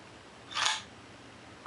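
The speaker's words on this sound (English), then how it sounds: "if we wind this up and step it down through the different shutter speeds" A Mercury II model CX camera shutter fires once at 1/1000 second, giving a single quick, crisp mechanical snap close to the listener in a quiet room, followed by a short electronic beep at the very end.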